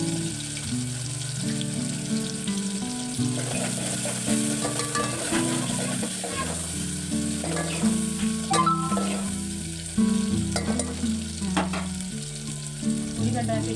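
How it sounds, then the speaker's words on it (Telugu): Puris deep-frying in a pan of hot oil, a steady dense sizzle and bubbling running throughout, close and fairly loud with occasional clinks of a utensil. "పూరీ చేస్తున్నా చూడండి"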